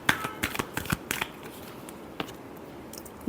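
Tarot cards riffled and shuffled by hand in a quick, close burst of papery flutters and slaps that thins into light rustling, with no voices over it.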